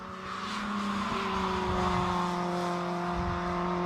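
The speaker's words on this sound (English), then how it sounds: "Flames spitting out the side of this incredibly powerful and incredibly fast Ford Escort Cross" A Ford Escort Cross race car of about 700 horsepower, modified for circuit racing at Anglesey, its engine droning loud and steady with a rising pitch as it passes, alone without talk.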